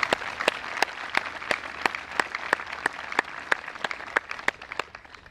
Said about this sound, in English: Please join me again in a round of applause